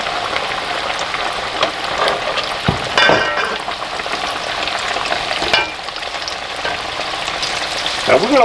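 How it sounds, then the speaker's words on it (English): Battered crappie fillets frying in hot grease, a loud, dense crackling sizzle that fills the space up close, with a few sharper pops and stirring bursts and nobody speaking. "we're about to introduce these crappie to some grease"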